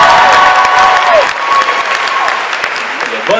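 A loud audience at a concert in Mankato, Minnesota bursts into applause with cheering and whoops, the clapping dense and close, briefly swelling before easing slightly.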